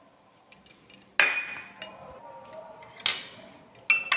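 A spoon stirs mosambi juice with honey in a glass, giving a few sharp ringing clinks against the glass between soft swirling, close up and otherwise quiet.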